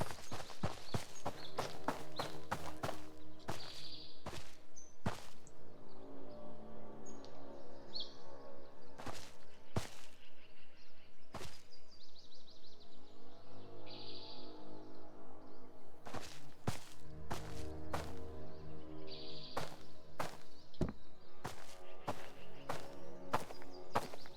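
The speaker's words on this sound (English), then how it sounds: "I can hear their footsteps." Regular footsteps thud in the video game Road to Vostok across a steady ambient bed. A run of sharp, distinct impacts lands in clusters with short pauses between them.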